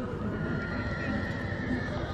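Horse whinnying amid the busy crowd noise of a large horse exhibition fair in Trei Movile, Bucovina, with steady background chatter and bustle throughout.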